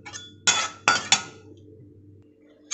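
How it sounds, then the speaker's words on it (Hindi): Almonds dropped into hot ghee in a pan for frying dry fruits, heard as three sharp clattering clinks close together, then a quiet low hum, with another clink at the end. "अपने बादाम डालूँगी इसमें, ये देखिए"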